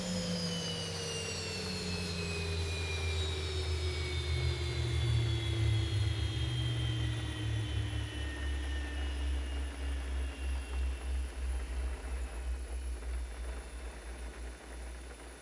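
Jet airliner engines shutting down in the X-Plane 11 flight simulator at Leeds Bradford Airport: a high turbine whine glides steadily downward for about fifteen seconds over a deep, fluttering rumble that slowly fades.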